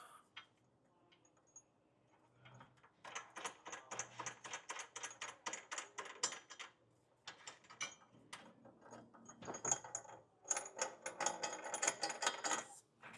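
A socket ratchet clicks in rapid bursts while tightening 18mm nuts onto carriage bolts for a Curt trailer hitch receiver on a 2017 Ford Fiesta, with close, loud runs of ratcheting broken by short pauses and no talk.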